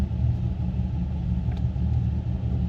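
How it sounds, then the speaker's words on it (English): Engine of an AWD Infiniti G37 sedan idling rough with a low, uneven, choppy rumble, steady and close, pulsing irregularly throughout. "Starting to sound like a motorcycle with the chop."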